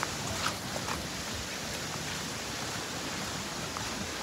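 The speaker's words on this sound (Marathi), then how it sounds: "जे वाटलं होतं तेच झालं. पाऊस आला." Rain falling during a short trek outing near Kondeshwar temple at Jambhavali: a steady, even hiss of patter with no distinct drops standing out, constant from start to end, with no voices.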